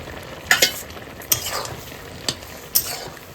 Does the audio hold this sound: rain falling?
no